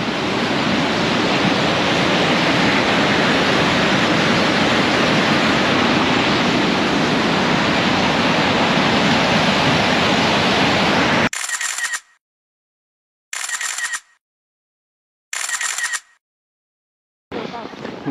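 Water pours over the Bauska dam on a snowy winter day, a loud, steady roar filling the first eleven seconds, then breaking into short bursts separated by silence.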